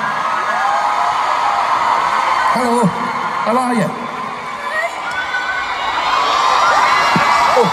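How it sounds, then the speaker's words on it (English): Crowd cheering and shouting greets arriving guests at a concert at Place Bell, a loud, continuous roar with whoops, while people talk nearby over it. "Big round of applause."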